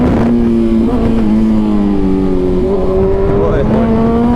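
A loud, close BMW S1000RR sport motorcycle engine drones steadily, then its pitch rises and falls as it revs, with a voice briefly audible over it.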